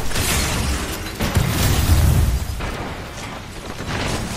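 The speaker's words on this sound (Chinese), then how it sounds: "一个爆炸" A heavy explosion in the video game Apex Legends, a deep rumbling boom that swells and rolls on for a couple of seconds amid dense battle noise, loud and close, with no talk over it.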